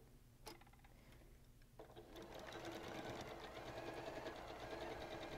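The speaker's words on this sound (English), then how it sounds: "we are just, again, sewing with that scant 1/4 inch seam allowance" A sewing machine stitches quilt seams with a scant quarter-inch allowance, starting with a brief burst, then running fast in a steady close mechanical chatter, while a voice speaks quietly over it.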